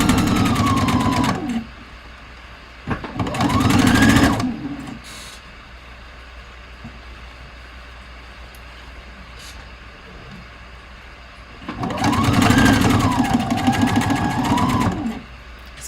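A domestic sewing machine stitches a hat in two loud bursts, one around two to four seconds and another near the end, with quiet pauses between runs and no talking.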